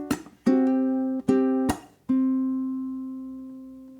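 A ukulele plays the opening of a song slowly without singing: four separate plucked notes, clear and close, each left to ring and fade, the last one sustaining for about two seconds.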